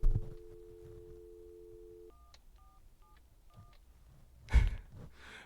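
Dialing tones from a VoIP phone system, heard alone at moderate level: a long steady tone followed by a rhythmic series of short dial beeps, with a brief thump near the end.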